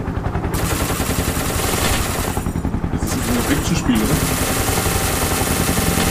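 Rapid automatic gunfire from the video game SCP Containment Breach keeps up a loud, steady burst rhythm throughout, with brief pauses, while players talk over it.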